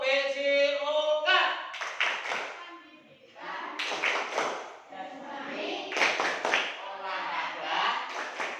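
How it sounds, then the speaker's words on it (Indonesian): A primary school class does the rhythmic PJOK clap chant during a physical education lesson, clapping in bursts with voices mixed in, loud and close. "kita awali dulu dengan tepuk PJOK."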